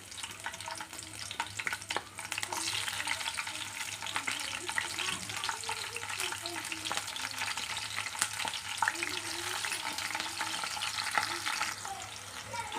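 Cut green chillies sputter in hot oil as part of a Telangana tomato and fenugreek curry, a dense, continuous sizzle with occasional scraping stirs, close and steady with no talking.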